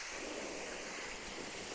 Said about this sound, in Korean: 물소리 아주 시원하네요